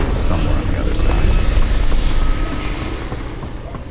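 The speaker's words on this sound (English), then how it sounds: "Chopper! Roger that. Chopper inbound." Helicopter in the Call of Duty Black Ops Cold War campaign, a loud steady rotor rumble mixed with low booms and battle noise, with voices over the top throughout.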